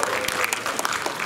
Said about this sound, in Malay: Bisa tepuk tangan buat mereka